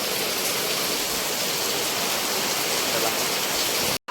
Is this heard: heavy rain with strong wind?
yes